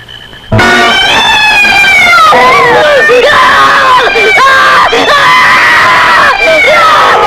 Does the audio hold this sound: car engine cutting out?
no